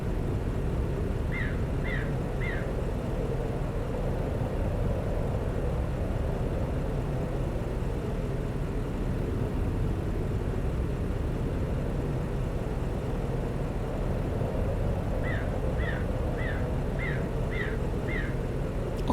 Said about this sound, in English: Outside, we can hear the engine of the car idling